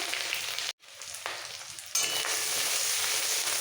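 Grated garlic and ginger sizzle steadily in hot oil for a chili paneer dish, the frying hiss broken by a brief silent gap, then returning louder and fuller, with no voices.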